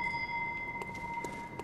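A bell in Bloodborne sounds with a sustained, steady ringing tone, alone with faint scattered clicks.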